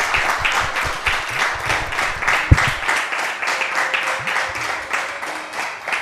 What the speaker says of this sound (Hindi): हाजरीन जो हैं वो ज़रा अपनी तालियों से मुझे बताएं कि वो कितना महजूज हो रहे